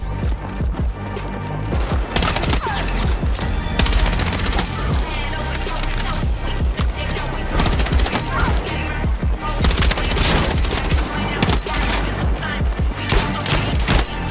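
Heavy, continuous automatic gunfire in the shooter game Battlefield 6, dense rattling bursts with booming impacts filling the whole stretch, loud and close, with no pauses.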